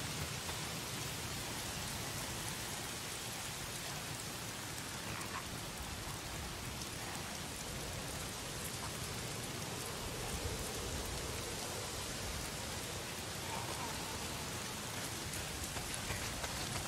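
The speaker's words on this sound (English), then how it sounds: "It's not the freaks. It's the goddamn rain." Steady rain falls in the video game Days Gone, a constant broadband hiss of drops on surfaces that stays even for the whole stretch, with no talk.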